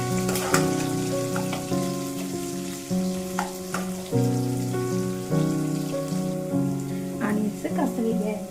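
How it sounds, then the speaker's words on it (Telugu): Two green chilies and a chopped medium onion frying in a pan, a loud crackling sizzle broken by a series of clanking spatula strokes against the metal, close up and without speech. "కట్ చేసుకున్న 2 పచ్చిమిర్చి, 1 మీడియం సైజు ఉల్లిపాయని వేసుకుంటున్నాను. ఆనియన్స్ కొంచెం కలర్ చేంజ్ అయ్యే వరకు వేయించుకున్నాము."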